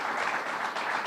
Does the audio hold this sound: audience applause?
yes